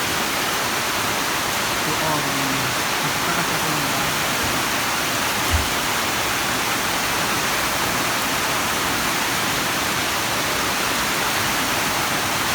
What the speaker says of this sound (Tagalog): Sobra ang lakas ng bagyo.